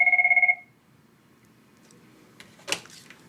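A telephone rings in an office, a few rapid electronic trills in the first half second, then quiet room tone with a faint rustle near the end.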